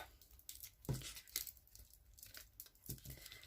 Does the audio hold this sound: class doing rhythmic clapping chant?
no